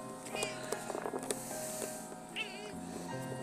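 A house cat meows a few times close by, with short rising calls standing out over a steady low hum and light background talk.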